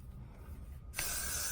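After a quiet moment, a close aerosol spray starts with a sudden, steady hiss.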